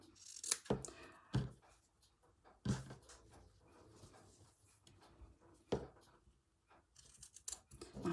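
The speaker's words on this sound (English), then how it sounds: "I'm just going to trim it in line" Several crisp, close snips of scissors trimming embroidery fabric, spaced unevenly with quiet handling noise between cuts.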